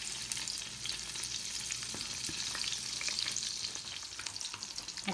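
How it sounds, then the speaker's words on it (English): Spam chunks frying in a pan of hot bacon grease, giving a steady, dense crackling sizzle close by that runs the whole time with no voices. "we have a pan with some hot bacon grease. We're going to throw our Spam in that"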